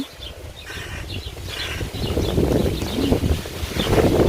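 Wind gusting across a house rooftop where cherries are being picked, a steady, fairly loud rush that builds toward the end with no talk.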